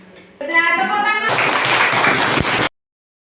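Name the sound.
applause, clapping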